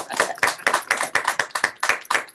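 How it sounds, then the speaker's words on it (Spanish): Rhythmic clapping from a small audience after a storytelling performance, sharp claps falling together in an even beat about four per second, close and clear with no talk over them. "Aplauso."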